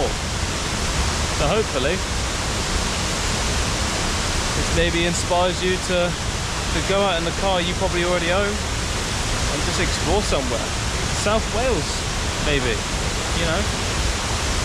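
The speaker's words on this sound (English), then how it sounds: "There's at least 4 waterfalls here, maybe a couple more." Rushing water from a waterfall in South Wales pours as a constant broadband roar, while someone talks at length over the steady torrent.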